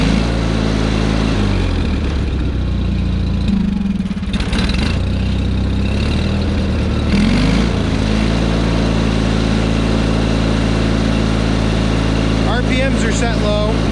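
A smoking John Deere 318 lawn tractor engine idles at low RPM with a steady low chugging rumble, while a person talks over it nearly throughout.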